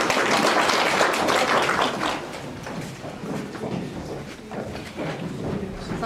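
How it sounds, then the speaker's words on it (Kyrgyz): A crowd of teachers and audience at a Kyrgyz school event clapping, dense applause loud at first, easing off a little, then swelling again, with no speech over it. "кол чабуулар менен Тургунов мектеби"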